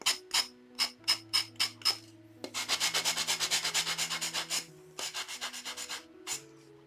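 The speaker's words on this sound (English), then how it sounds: "When you're sanding, you just want to make sure that there aren't any sharp edges" Hand sanding smooths the cut edges of a wooden Halloween black cat shelf sitter, rhythmic rasping strokes in short bursts, then a quicker run of many strokes, close and clear.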